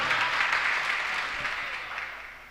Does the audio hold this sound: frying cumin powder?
no